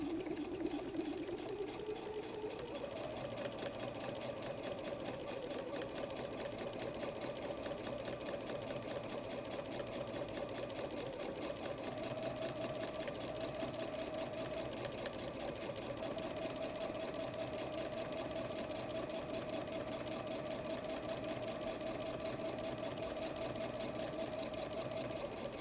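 A sewing machine runs a steady, continuous stitch across the top of a messenger bag at center needle position with a 2.5 stitch length, an even mechanical whir sustained for the whole stretch with no talking.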